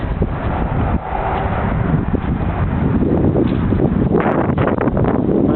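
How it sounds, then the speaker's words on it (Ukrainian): Strong wind buffets the microphone in a constant low roar, with gusty rumbling and rustling throughout and no speech. "Сьогодні сильний вітер"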